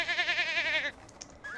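Mini goats in The Sims 4 bleat once in a loud, wavering call lasting nearly a second. A few faint game sounds follow it.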